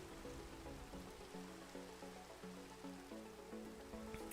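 Rain falls in the video game Minecraft as a steady, even hiss of drops, with soft tonal notes running underneath throughout.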